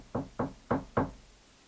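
Four firm knocks on a wooden door, evenly spaced and close, each a sharp thud with a short ring, then silence.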